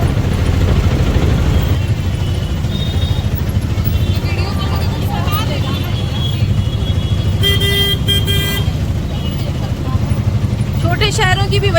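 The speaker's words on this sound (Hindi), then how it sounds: "काफी हैवी ट्रैफिक है अभी।" Heavy road traffic at Bajra Chowk, a steady loud roar of cars and motorcycles with several car horns tooting, a longer horn blast toward the end, and someone talking over the traffic noise.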